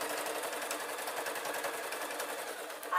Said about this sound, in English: now the machine is going through quite a few layers of fabric